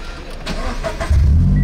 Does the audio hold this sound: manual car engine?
yes